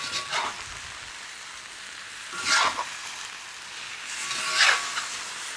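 Fish with garlic stir-frying in a hot wok for a turmeric and dill dish, a steady sizzle that flares into three louder bursts as the pieces are tossed and moved around.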